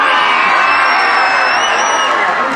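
Theme-park graveyard revue audience screaming and whooping together, a loud sustained crowd roar of shrieks and yells that fills the whole moment without letting up.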